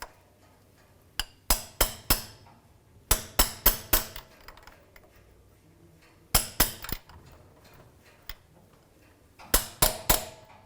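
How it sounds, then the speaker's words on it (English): A hammer taps a transmission valve body into its housing on a 2005-2010 Dodge Dakota, sharp metallic knocks coming in quick bursts of three to five, close and crisp, with quiet gaps between the groups. "just give it a tap with a hammer, because we want it to seat right into that housing"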